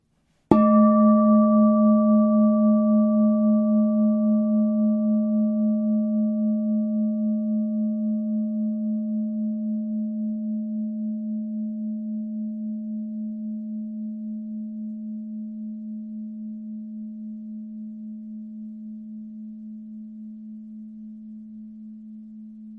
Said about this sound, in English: Hear the sound of the bowl now.